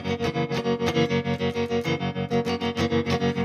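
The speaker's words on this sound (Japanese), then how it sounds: "これトレモロかけるだけでダダダダって音を揺らすことによって" Strummed electric guitar chords throb with a quick, regular tremolo, the loudness chopping up and down in an even rhythm; loud, close, no voices.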